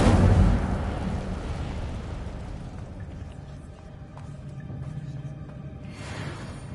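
A fiery spell bursts out in a dungeon in Hogwarts Legacy: a sharp, heavy whoosh-boom at the start that decays into a rumbling crackle, with a brighter flare near the end.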